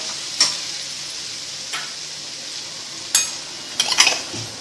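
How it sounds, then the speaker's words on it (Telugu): Potatoes fry in a pan with a soft continuous sizzle, punctuated by a few sharp metallic clicks of a spatula spaced through the clip and a small burst of taps at the end; nobody speaks. "దీన్ని మనం ఇలా ఫ్రై చేస్తున్నాము ఒక 5 మినిట్స్ పాటు."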